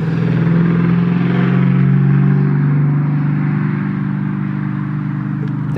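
A Ford Mustang's engine rumbles nearby in a deep, steady drone that slowly fades a little, heard on its own without speech.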